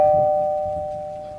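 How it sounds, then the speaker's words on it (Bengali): A front-door doorbell rings once in a quiet room at night, one clear electronic tone that slowly fades away. "বাইরের দরজায় কলিং বেল বাজার শব্দ"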